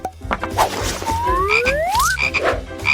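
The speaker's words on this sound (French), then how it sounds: "Et maintenant, mettons la grenouille à l'intérieur." A frog croaks amid a busy, cartoonish soundtrack, with rising sweeping tones and clattering effects around it, moderately loud and no speech.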